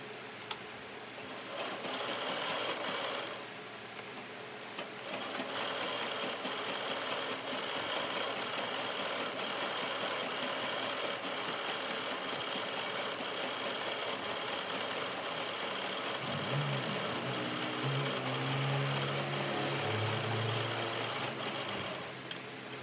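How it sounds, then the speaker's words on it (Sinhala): A sewing machine runs a long gathering stitch on a blouse with a steady, fast mechanical chatter close by, continuing almost without break before easing toward the end. "අපි ඒකට කරන්නේ මැෂින් එකේ නූල් ඈතින් තියෙන මැහුමක් දාගෙන ඊට පස්සේ අපි මේක ඇදලා රැලි කරගන්න යන්නේ"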